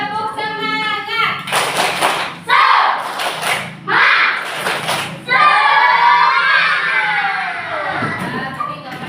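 A class of children performs a rhythmic spirit clap in a lesson, loud bursts of group clapping in a patterned beat alternating with children chanting and shouting together, close and lively.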